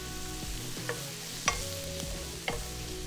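Garlic sautéing with carrots and onions in a pot, a soft sizzle broken by a few sharp scraping stir knocks, no voices.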